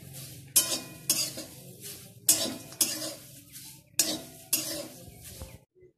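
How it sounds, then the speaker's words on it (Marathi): Dry spices, stone flower and bay leaves, are roasted without oil in a pan for goda masala, six or so distinct scraping stirs rasping across the metal with brief quiet gaps between them, close and fairly soft. "आता दगड फुलामध्येच आपण जरा तमालपत्र घालू, थोडं ते भाजूया"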